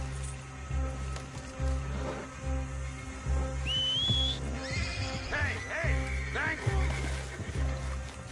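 A horse in the video game Red Dead Redemption 2 whinnies and neighs loudly in a few bursts, with a whistle and hoof clip-clops, over a steady low rumble and background game sounds.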